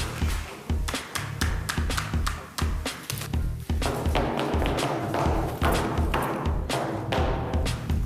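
A fist knocks repeatedly on the floor of an apartment, making heavy, dull thumps close by. The blows come in rapid groups, then grow denser and more continuous in the second half.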